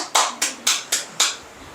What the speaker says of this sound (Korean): 박수 안 치네 그랬더니 혼자서 막 쳐